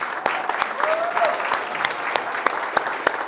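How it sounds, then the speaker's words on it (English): Audience applause for a business event crew, a steady patter of claps with scattered sharper individual hand hits, some voices audible over it. "let's give the HomeSmart crew a round of applause"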